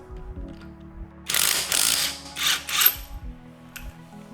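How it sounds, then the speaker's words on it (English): A hand ratchet loosens a car wheel lug nut, giving a quick burst of rapid clicking up close, in a few short bursts that then stop, with a quiet background and no talk. "Remove one of the lug nuts."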